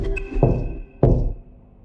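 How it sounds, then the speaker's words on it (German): Two loud, hollow knocks on a door, close and spaced about half a second apart, each ringing briefly before fading. "Oder klopft es laut an der Tür?"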